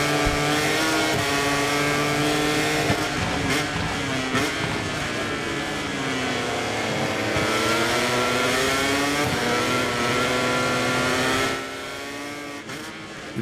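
MotoGP motorcycles accelerating in the MotoGP 24 video game at Assen, a loud continuous engine whine rising and falling through the gears as several bikes run close together, dropping away at the end.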